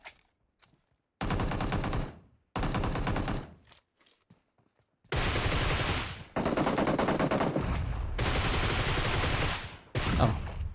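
Gunfire and explosions in a shooter video game: long bursts of loud automatic fire come in several blocks, with short gaps between them and heavy blasts mixed in, and no talk over the shooting.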